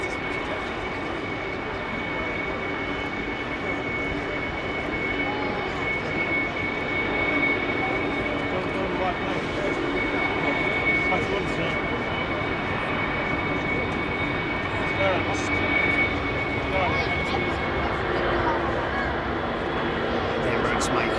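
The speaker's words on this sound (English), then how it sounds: "Emirates making all the noise." Emirates airliner jet engines roaring at Heathrow Airport, a sustained broadband rumble and whine at moderate distance holding steady throughout, with a continuous tonal hum on top.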